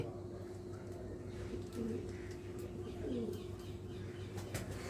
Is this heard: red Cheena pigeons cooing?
yes